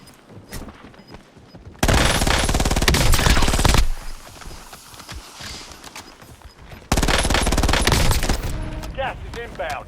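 Warzone gunfire comes in two long, loud bursts of rapid automatic shots with quieter distant shots and game sounds between them, and a voice speaks briefly near the end.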